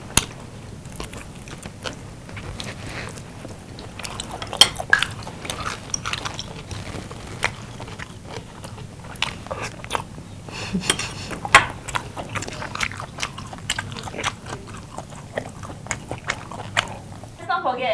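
Diners at a Christmas mukbang feast of meats, with wet biting and chewing, occasional clinks of cutlery and dishes, and steady chatter from several people throughout.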